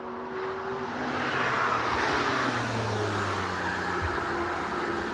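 Race cars at the Nürburgring circuit roar past in a loud, continuous wash of engine noise, with pitch sweeping as each car goes by and no talking.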